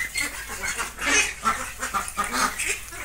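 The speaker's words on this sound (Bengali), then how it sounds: "আর এই সাইডে হোয়াইট কালারের কতগুলো হাঁস, এই যে দেখুন," A flock of white ducks quacking at a duck farm, rapid overlapping calls in an irregular rhythm, moderately close and fairly quiet, with no talking.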